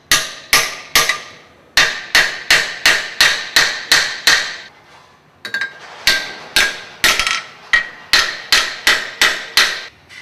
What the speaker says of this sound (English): we're going to take a hammer and we're going to actually just bend these back